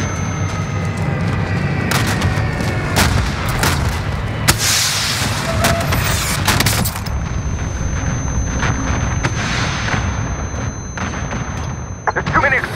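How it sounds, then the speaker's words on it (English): Warzone battle audio fills the scene with repeated booming explosions and artillery fire, sharp bursts and rumbles layered over dense combat noise, loud and continuous with occasional distant cracks. "There's too many explosions."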